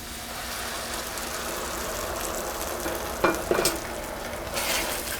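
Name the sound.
onion and garlic added to a sizzling pan with mushrooms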